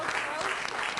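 An audience applauds volunteers at the close of a Harvard computer science lecture, with dense, steady clapping that fills the whole moment at close range.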